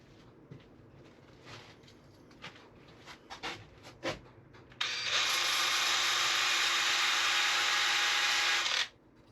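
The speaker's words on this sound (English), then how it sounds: "Where's my sander real quick?" Scattered light taps and handling noises come first, then a power sander starts on a piece of rustic Florida live oak with a loud, steady whir that runs for about four seconds and then cuts off.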